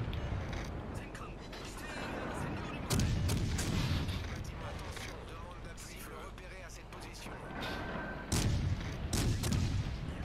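Warship turret guns firing in the naval video game World of Warships Legends, a series of heavy booming blasts over continuous battle noise, with someone talking throughout.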